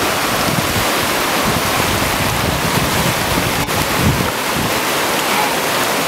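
Broad, steady roar of rushing river rapids near a waterfall, loud and continuous with wind buffeting the microphone, no talking.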